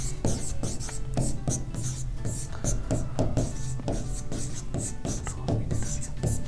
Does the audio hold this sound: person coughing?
no